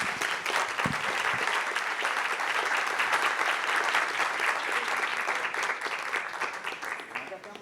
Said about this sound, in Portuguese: Queria pedir mais uma salva de palmas